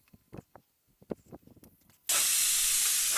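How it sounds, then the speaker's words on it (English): Compressed air rushing into a tire to seat the bead at home, a loud continuous hiss that starts abruptly after some faint handling clicks and knocks and holds steady to the end. "what I'm going to do is start filling with air and push down onto the tire"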